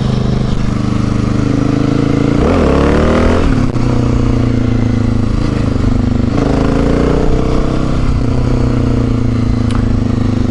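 A motorcycle engine drones loud and close, rising in a few sharp revs and falling back to a rough idle while a rider practises wheelies.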